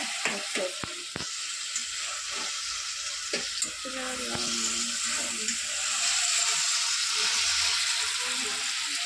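Tamarind fries in a pan for mint chutney, giving a steady hiss and sizzle. A spoon clatters and scrapes against the pan in the first seconds, and the frying grows a little louder toward the end. No voices are heard.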